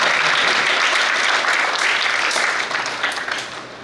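Audience applause for the newly appointed chair of a child protection commission at a summer camp inauguration, dense, steady clapping from a crowd that fades slightly toward the end.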